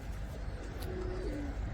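A pigeon coos softly and close by, a low throaty tone that glides briefly, set against a steady background hum.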